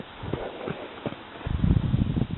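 A young colt being lunged in a training pen trots with rhythmic hoof clip-clops on soft ground, the beats growing louder and closer toward the end.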